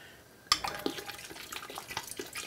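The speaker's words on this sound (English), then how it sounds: "I'm adding in Merlot." Merlot wine pours and splashes into a pot of turkey neck sauce, a soft burst of liquid followed by faint trickling and gentle bubbling.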